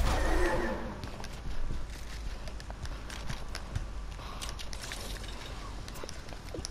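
In the video game Apex Legends, a horse whinnies loudly at first, followed by a steady run of hooves clip-clopping close by, with scattered game noises around them.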